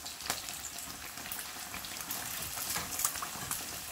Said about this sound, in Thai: เอาหนังก่อนนะคะเอาด้านหนังลงก่อนนะคะเขาจะได้ฟูกรอบอะค่ะ